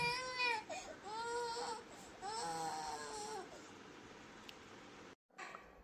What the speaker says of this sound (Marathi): आणि रडणं पण सोबतच